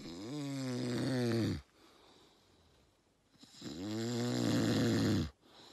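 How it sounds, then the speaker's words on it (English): A man snoring in a tent while camping on a Siberian pike fishing trip, with two long, loud rasping inhalations separated by a quiet pause. "He snores louder than a bear."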